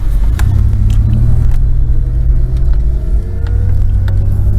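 A 1991 Ford Explorer with an A4LD automatic transmission drives in overdrive, giving a steady, loud low engine and road rumble throughout, with a faint rising whine as it gathers speed and no talking.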